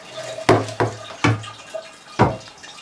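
Grape juice falls from a homemade wine press in four distinct, close, loud drips. The drops land at uneven intervals over a quiet background.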